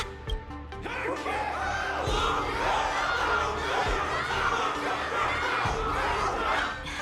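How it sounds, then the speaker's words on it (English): In a video game, a large crowd cheers and shouts continuously, a dense roar of many voices that swells and holds steady throughout. "Everyone's cheering for you, Luca!"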